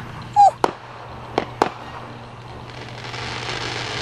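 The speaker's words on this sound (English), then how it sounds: "Wow, they're like real fireworks." Fireworks bursting over a farm pond at night, with a few sharp separate pops spread across the moment and soft background noise between them.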